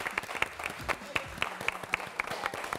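Audience applause in a hall, fairly quiet and mixed with crowd murmur and voices, with a few sharper claps standing out in an uneven rhythm.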